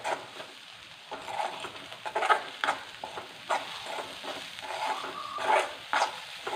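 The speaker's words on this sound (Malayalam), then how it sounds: "ഇത് ഒരു രണ്ട് മിനിറ്റ് ഒന്ന് ഇളക്കാം" A side dish stirred in a pan on the stove, a spoon scraping and shuffling the food in uneven strokes over a soft sizzle, close and moderately loud, with no voices.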